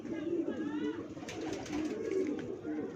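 A pet pigeon kept by a pigeon fancier coos in repeated soft, low throaty rolls, close by and moderately quiet, with faint background noise.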